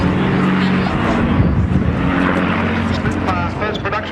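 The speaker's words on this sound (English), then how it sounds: "So Squadron Leader Al Pinner flying the Spitfire for us today." Supermarine Spitfire flying at an air show, a steady propeller-engine drone held at close range, mixed with outdoor crowd and wind noise.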